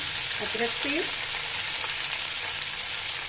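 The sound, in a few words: ginger paste sautéing in a pan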